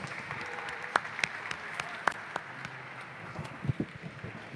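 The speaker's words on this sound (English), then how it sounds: "It'd be an appropriate time for a big, loud round of applause for our artists here." Scattered applause from a museum audience for glassblowing artists, a diffuse patter of clapping with a few sharper claps standing out, moderately distant and steady.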